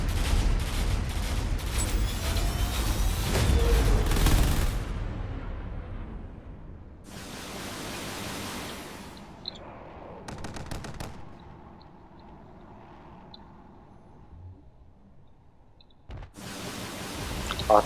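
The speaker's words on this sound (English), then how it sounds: "Lots of shots coming in from the corvettes." Rapid gunfire from corvettes during a Drone Wars space battle, loud dense bursts in the first few seconds, then scattered volleys and a fresh burst near the end, with no talking.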